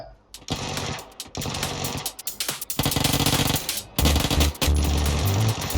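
Loud bursts of rapid gunfire in PUBG, rattling automatic shots in quick volleys with short pauses, close and dense.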